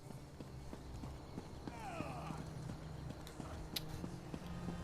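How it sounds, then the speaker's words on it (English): Hooves of an Apocrypha horse creature in the video game Elder Scrolls Online, a steady, evenly paced clip-clop close by, with a brief whinny-like squeal partway through and a voice talking over it. "Oh, that's the Apocrypha horse creature abomination."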